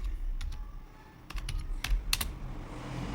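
Someone types on a computer keyboard, a few clear keystrokes and short irregular bursts of clicks over a low background hum.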